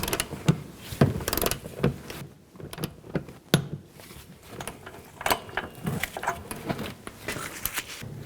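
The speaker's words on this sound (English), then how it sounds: "Once you get that pretty tight, you can use a torque wrench and torque this to 15 foot-pounds." A torque wrench tightens the front shock nut on a 1999-2007 Chevy Silverado 2500HD, giving close, irregular mechanical clicks and ratcheting bursts with short pauses between.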